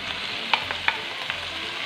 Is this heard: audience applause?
no